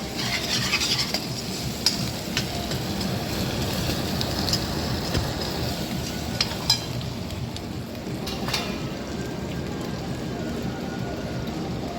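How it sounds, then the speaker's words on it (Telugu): A pot of boti curry is stirred and mixed, a steady scraping and rubbing of the spoon against the pot that continues evenly with occasional sharper knocks and no voices. "దాని తర్వాత బాగా కలుపుకోవాలి"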